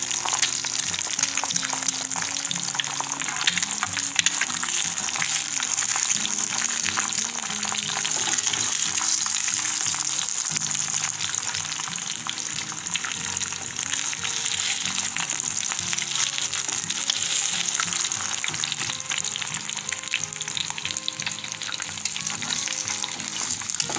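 Eggs sizzle and crackle steadily in hot oil in a frying pan, seasoned with salt for chilaquiles, a dense close hiss that holds without a break and with no voices.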